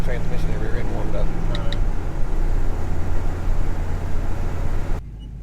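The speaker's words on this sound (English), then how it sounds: "Let's drive out to the firehouse and get the transmission and rear end warmed up." Chevrolet C10 pickup driving out on the road to warm up its transmission and rear end, a steady loud cabin drone of engine and road noise with faint voices in the background, cutting to a quieter hum at the end.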